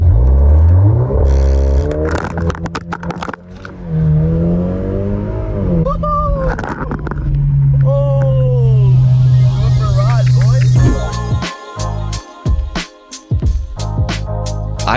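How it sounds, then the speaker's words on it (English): A modified VW MK8 Golf R hatchback on back roads uses launch control: the engine revs climb in loud rising sweeps, then the car pulls hard through gear changes, all close and loud. "This is Golf R launch control."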